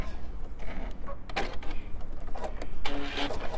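A sewing machine back stitches an elephant stuffed animal in short, uneven bursts of whirring and clatter, with pauses between runs, close and fairly loud.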